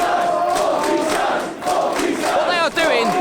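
A wrestling crowd at a Cody Rhodes versus Marty Scurll match cheers for Scurll, a loud, steady roar of voices with chanting and a few whistles near the end.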